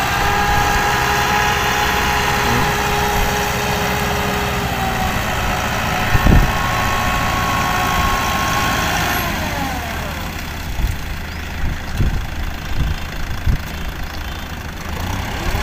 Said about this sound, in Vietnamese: Còn hai máy ngoài kia thì đang xới lên.